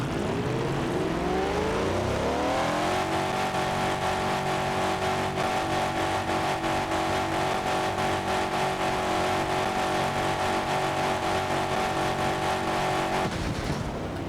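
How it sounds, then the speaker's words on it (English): A simulated quad-turbo supercharged V16 engine in a video game revs up over a couple of seconds, then holds a loud, steady, buzzing high-rev drone for about ten seconds before cutting off abruptly. "Uncorked V16, quad turbo, supercharged, live noise."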